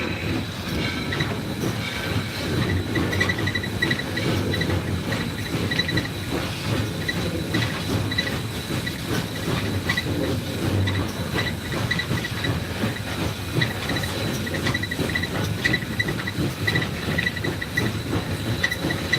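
Southern Railway steam locomotive #630 runs steadily as heard from inside the cab, a loud continuous rumble with rail clatter, hiss and occasional wheel squeal departing East Chattanooga.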